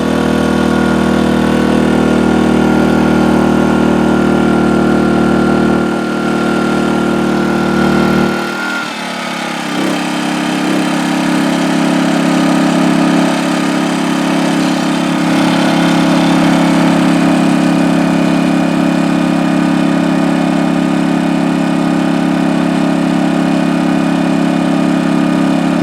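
Portable generator engine running under a full 1600 watt load, a loud steady close drone with a brief dip in pitch partway through before settling back to a constant hum, no talking.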